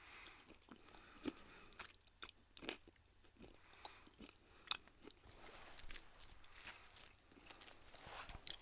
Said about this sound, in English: I was too busy chewing this at least 1-year-old candy cane